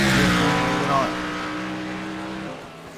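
A Toyota Supra GTR race car on Road America in a racing simulator drones with a steady engine tone that fades slightly as it moves off, heard under a commentator's voice.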